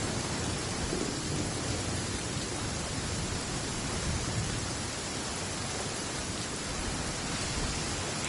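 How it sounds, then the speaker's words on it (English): A stormy downpour with thunder in the video game Genshin Impact, a dense, loud wash of rain noise that holds steady throughout, with rumbling low end and no speech. "Hey, it's just a little lightning."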